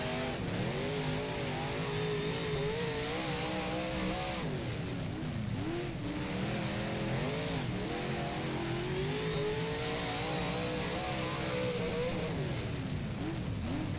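A Super Late Model race car engine in the rFactor video game, at Talladega, screams steadily throughout, revving up and down through gear changes with constant loud whine and no voices.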